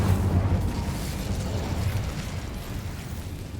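The Incendio fire spell in Hogwarts Legacy bursts out as a loud, rumbling whoosh of flame that rolls on for several seconds and slowly fades. No talk is heard.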